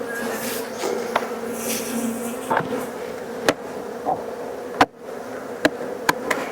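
Honey bees buzz steadily around an open horizontal beehive on a homestead, a close, continuous drone with sharp clicks and knocks from handling the hive scattered throughout.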